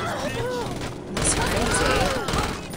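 Gunfire in the video game Saints Row during a gang fight, rapid bursts of shots crackling over a busy mix of game sound and voices, loud and close throughout.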